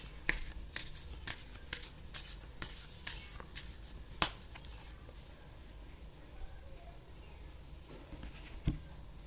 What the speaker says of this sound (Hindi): एक और कार्ड निकालेंगे।